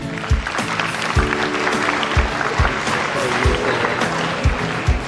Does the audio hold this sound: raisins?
no